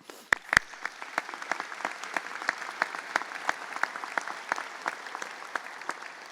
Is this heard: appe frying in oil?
no